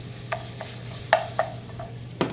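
Ground meat and onions sautéing for chili in a pan, heard as a few scattered utensil scrapes and clicks against the pan over a quiet low hum, with no talking.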